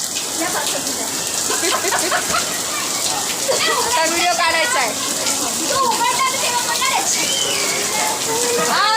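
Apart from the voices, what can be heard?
rain falling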